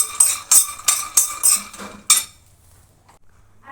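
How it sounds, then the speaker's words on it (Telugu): Peanuts dry-roasting in a pan for a sweet, stirred with a spatula, giving a series of sharp scraping clinks in steady rhythm that stop abruptly, leaving near silence. "ఒక కప్పు పల్లీలు వేయించుకోండి. బాగా దూరగా వేయించుకోవాలి."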